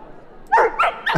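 Three quick, loud barks from a dog in the video game The Lion's Song, close and sharp, following a brief low hum.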